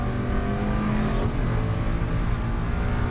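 The Steeda #20 T1 road-race Mustang accelerates hard out of a hairpin during a SARRC race, its engine roaring loud and close in a sustained, unbroken drone.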